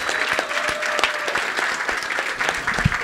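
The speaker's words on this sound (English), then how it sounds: "Let's give a round of applause for everybody here." Audience applause at a conference closing plenary, with steady clapping from a crowd continuing throughout at moderate volume.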